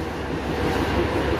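A steady low rumble fills the inside of the Siliguri Intercity Express, a constant rolling train noise with no distinct clacks or voices.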